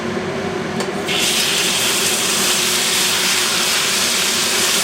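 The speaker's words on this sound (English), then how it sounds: "And you hear it sizzling." Steady, loud hissing and crackling of chicken pieces frying in hot oil for a stir fry, rising slightly after the first second and holding constant.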